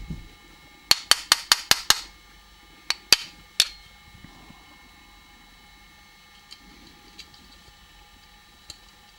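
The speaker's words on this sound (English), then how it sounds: "So you have to put it down like that and drive the 2 pins through." Roll pins being hammered into a Smith & Wesson 22A pistol frame: a quick burst of six sharp metallic taps, then three more spaced strikes and a few faint ticks, close and otherwise quiet.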